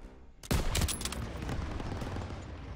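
Gunfire in the World War II shooter Call of Duty WW2, a sudden loud burst of rapid shots that opens a sustained rattling fusillade, continuing as a dense wash of battle noise with no talk over it.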